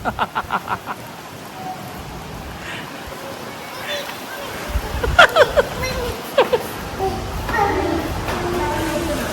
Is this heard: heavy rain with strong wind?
yes